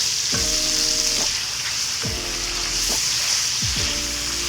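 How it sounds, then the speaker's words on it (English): Octopus is lightly sautéed in hot oil with aromatics for pork and octopus udon. A loud, continuous sizzle fills the clip, with three or four sweeping stir strokes and no voices. "I'm going to go in with the octopus. We're just going to lightly saute this"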